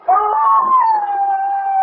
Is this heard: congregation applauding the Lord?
no